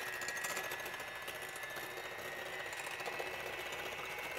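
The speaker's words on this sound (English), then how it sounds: "We're going to go ahead and get our mixer." Electric kitchen mixer beating egg whites at slow speed, a faint steady motor whir with a fine rattling buzz, constant and unbroken, no speech.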